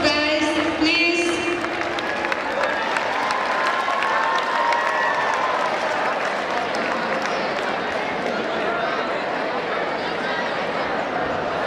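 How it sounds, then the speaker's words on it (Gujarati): An audience at the SATRANG 2024 stage event bursts into applause, a dense wash of clapping that holds steady for over ten seconds, with some cheering and a voice near the start. "A big round of applause, guys, please."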